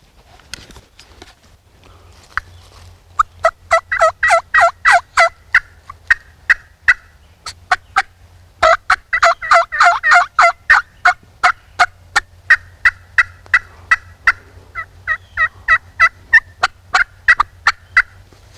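Turkey hen yelps from slate friction and mouth calls imitating several hens, loud and close in rapid rhythmic series with short gaps, over a low steady background hum.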